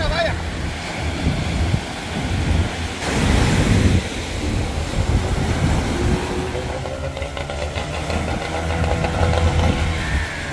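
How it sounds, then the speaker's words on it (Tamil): A boat being launched into the sea from a beach: surf washes in against the shore while wind buffets the microphone and a boat engine drones steadily beneath, all fairly loud and close. "சரி இப்போ போட் வந்து கடலுக்கு இறக்க போகிறோம்"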